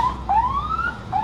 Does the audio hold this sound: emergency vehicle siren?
yes